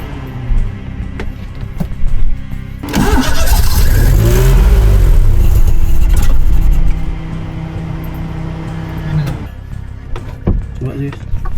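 An engine is turned over with the starter and catches into a loud running rumble for a few seconds before dropping away, heard up close, with people talking around it.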